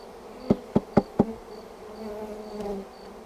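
Honey bees being hived in April buzz steadily around the beekeeper's head. Four sharp knocks on a can come first, then the swarm's drone continues under them and afterward.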